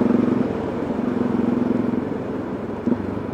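Motorcycle engine running steadily while riding, a continuous low rumbling drone with a faint rise near the end, fairly close and with no talk over it.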